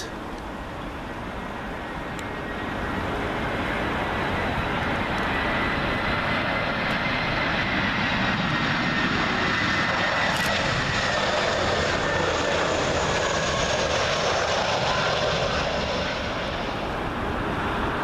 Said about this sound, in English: Next arrival, FinnAir A320, and this one from Madrid.